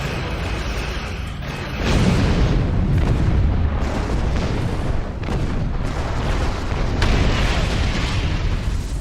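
Torpedoes slam into a Klingon turret during a Star Trek space battle in a sustained barrage of rumbling booms, loud and dense, with several distinct impacts rising out of a continuous roar.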